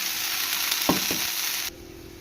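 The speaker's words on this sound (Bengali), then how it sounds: "তেল গরম হয়ে গেছে, কালো জিরে ফোড়ন দিলাম। দিয়ে পাতাটা ঢেলে দেবো।" Bottle gourd leaves fry in hot oil seasoned with black cumin seeds, a loud, continuous close-up sizzle with a brief stir in the middle before the hiss drops away near the end.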